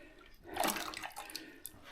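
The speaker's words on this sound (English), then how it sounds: "And then we just take as much hot water as we want." Hot water is poured into bowls for washing at a forest homestead in Sweden. It comes as a short splashing gush close by, then fades into lighter trickling and drips.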